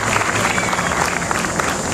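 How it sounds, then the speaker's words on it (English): An audience at a community celebration event applauds continuously, a dense even wash of many hands clapping at steady volume with a faint crowd murmur underneath. "please give her a round of applause"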